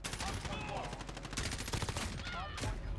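Rapid automatic M4A1 rifle fire in Call of Duty Modern Warfare, with dense, loud bursts of shots crackling nearly continuously over busy game noise.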